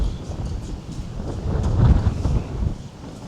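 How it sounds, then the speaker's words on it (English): Gusty wind buffeting the microphone beside the River Mersey under the Runcorn Bridge, a steady low rumble that swells loudest midway before easing, with no voices. "It's a bit windy over here."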